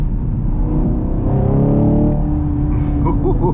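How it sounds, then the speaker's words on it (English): Chevrolet Camaro SS 1LE V8 revving for a rev-matched downshift, a loud in-cabin engine swell that rises and falls over a few seconds with a steady rumble underneath. "Give y'all a rev match real quick."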